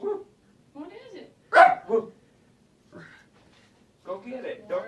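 Dog barking at home, short sharp barks and yips in scattered bursts, fairly close, mixed with people talking.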